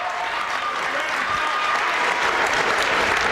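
Bowling crowd at the 2007 AMF World Cup men's final clapping and cheering after a double, dense sustained applause close and loud throughout.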